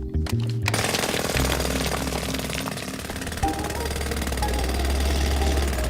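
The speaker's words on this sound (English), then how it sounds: "Remember to keep your ear defenders on whilst you're drilling." A cartoon jackhammer pounds away at a construction site, breaking up ground with a rapid, steady, close hammering rattle over an engine-like rumble.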